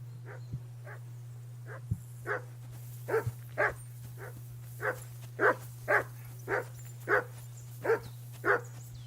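A dog in the video game Kingdom Come: Deliverance 2 barks repeatedly at a steady pace, about a dozen sharp barks over a constant low hum.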